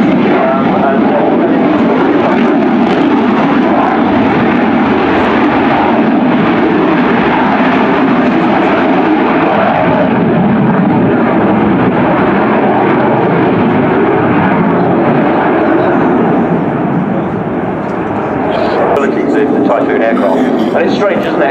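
A Spanish Air Force Eurofighter EF-2000 performs a slow, high-alpha display flyby at an airshow, its engine roar loud and sustained throughout while a commentator talks over it.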